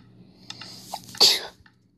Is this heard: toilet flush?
no